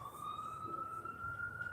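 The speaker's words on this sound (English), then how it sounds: "this damn ambulance is going by" An ambulance siren wails steadily as it passes by, a loud sustained tone holding through the whole moment with no voices over it.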